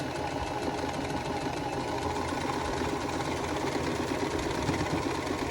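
A sewing machine runs continuously and steadily, stitching a vintage quilt block with a close, even mechanical whir and no pauses.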